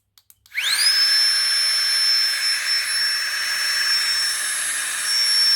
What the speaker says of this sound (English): you can double press to turn the pump on and off.